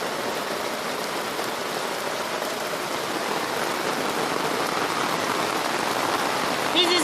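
Heavy rain pours steadily in a village, a dense, constant hiss of drops drumming on surfaces from start to finish, loud and close with no voices.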